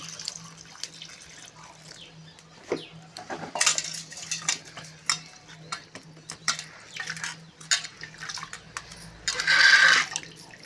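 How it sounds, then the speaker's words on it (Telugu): Drumstick (moringa) leaves are rinsed with water in a steel vessel, giving scattered metallic clinks and knocks, soft splashing, and a louder rush of pouring water near the end. "ఇలా నీళ్ళు వేసుకుంటూ శుభ్రం కడిగేసుకోవాలండి."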